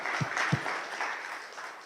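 An audience in a hall at a quantum physics summer school claps in thanks, a soft, even wash of many hands that stays fairly distant and faint, with a couple of low thumps near the start.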